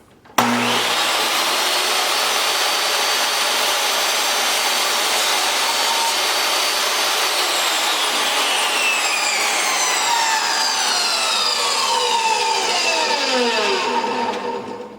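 A saw cuts steadily through a 2x4 wood board for a rustic mirror frame build, a loud continuous rasping grind that holds for about fourteen seconds, its pitch sweeping downward near the end as the blade slows.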